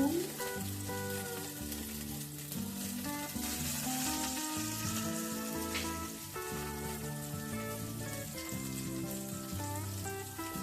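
Cauliflower pieces fry in a pan with a continuous close sizzle, partly masked by loud background music throughout.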